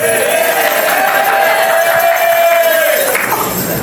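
A town band concert audience on a seafront cheers and whoops for the trombone section, a loud sustained crowd roar with a long held shout rising above it before fading.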